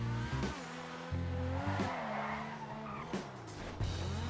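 Progen GP1 car in a video game drifting, with tires squealing and skidding in long wavering screeches over a steady engine drone, several bursts of slip in quick succession.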